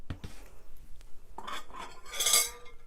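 A metal spoon taps and clinks against a mixing bowl a few times, soft and close, with a brief scraping stir.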